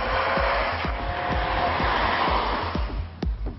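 A Mercedes CLA 200 CDI diesel car accelerates hard from a standstill toward 100 km/h in a 0-100 test, a loud, steady broadband engine and road roar with brief transient knocks, no speech.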